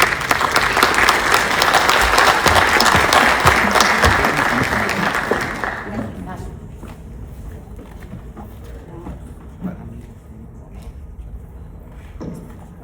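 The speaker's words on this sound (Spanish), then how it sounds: "recibamos con un fuerte aplauso a la maestra Gabriela Ortiz Portilla." Strong audience applause at an institutional event on inclusion and diversity, loud and dense for about six seconds before quickly fading into scattered claps and room noise.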